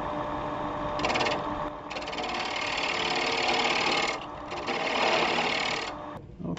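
Wood lathe turning a cross grain box blank while a 3/8 inch bar tool cuts inward, a steady loud whirring hum with bursts of brighter cutting noise that come and go in several passes.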